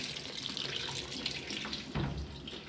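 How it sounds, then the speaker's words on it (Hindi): LG 10 kg top-load washing machine filling its drum with water, a steady rushing hiss that runs throughout with a brief louder surge near the end, close and unbroken with no talking. "अब ये वॉशिंग मशीन पानी ऐड कर रही है"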